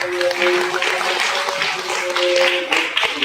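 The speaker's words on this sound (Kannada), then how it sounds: "ನಮ್ಮ ಅರುಣ್ ಕುಮಾರ್ ಮಾಸ್ಟರ್ ಅವರಿಗೆ ಜೋರಾದ ಚಪ್ಪಾಳೆ ಬರಬೇಕು" An audience at a cultural programme of a meditation gathering in Udupi applauds for Arun Kumar Master: a steady wash of many hands clapping, with a faint sustained tone running beneath.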